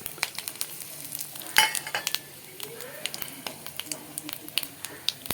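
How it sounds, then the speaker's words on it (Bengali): Whole spices, bay leaf, dried chilli and cumin sizzle in caramelized sugar in a pan over low gas, with faint frying crackle and intermittent clinks and stirring taps, fairly quiet throughout. "এবার এর মধ্যে আমি ফোড়নগুলো দিয়ে দেবো তেজপাতা শুকনো লঙ্কা গোটা গরম মশলা আর গোটা জিরে"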